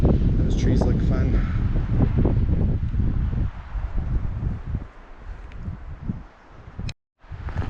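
Wind gusts across an exposed hilltop trail on the Strait of Juan de Fuca, Olympic Peninsula, roaring steadily into the microphone, loud at first and easing later, with brief rustling and people talking underneath.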